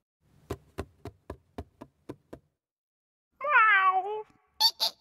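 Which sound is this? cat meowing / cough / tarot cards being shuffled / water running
cat meowing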